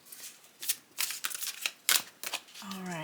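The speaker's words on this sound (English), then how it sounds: "so let's try sideways riffle" Quick bursts of tarot cards being riffle shuffled close up, a flurry of crisp flutters, followed by a voice speaking at the end.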